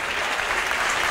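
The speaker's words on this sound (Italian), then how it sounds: "Merita un grosso applauso questo" Audience applause at an Arteatro evening for the young pianist Matteo Di Caprio, a dense, steady wash of many hands clapping at an even level throughout, with no voices standing out.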